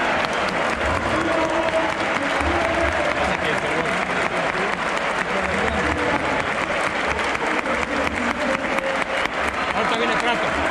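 Stadium crowd applauding during a Copa Libertadores final, dense steady clapping with crowd noise filling the whole stretch, loud and continuous, with voices mixed in underneath.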